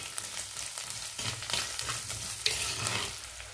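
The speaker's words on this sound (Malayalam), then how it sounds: "ഇതിലേക്ക് നമ്മൾ എടുത്തു വച്ചിരിക്കുന്ന ചെറിയ ഉള്ളിയും ഇഞ്ചിയും വെളുത്തുള്ളിയും കൂടി ചേർത്ത് വഴറ്റിയെടുക്കാം." Shallots, ginger and garlic sautéing in a pan for a drumstick and anchovy fish curry: continuous close sizzle with brief stirring scrapes, moderately loud, no voices.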